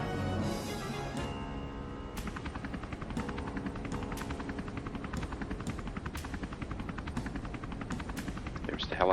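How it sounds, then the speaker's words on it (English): Helicopter in the Final Fantasy 7 video game, a steady loud rotor drone with sharp repeated percussive bursts like gunfire over a dense game soundtrack. "The helicopter. There's a big light."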